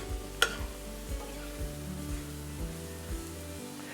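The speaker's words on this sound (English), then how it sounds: "fold the flour into the veggies really good so that you don't see any of the flour left. So you just have to keep stirring." Flour being stirred into sautéed vegetables in a pan for chicken à la king, with a soft continuous sizzle and regular scraping strokes of the spoon roughly every half second.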